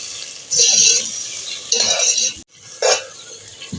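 Matar pulao being fried and stirred in a cooking pot, with bursts of scraping and clattering from the spoon against the metal, separated by short quieter pauses and a faint sizzle.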